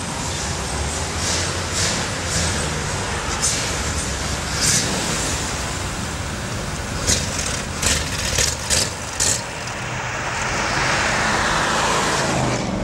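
A 1963 Chevrolet Corvette split-window on the move, a steady broad engine and road rumble with a few brief sharper bursts, continuous and fairly loud, without talk.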